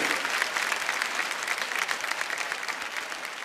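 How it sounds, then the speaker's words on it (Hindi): Studio audience applause on a televised courtroom-style talk show, dense even clapping that holds steady across the whole stretch at moderate level. "एक बार जोरदार तालियां"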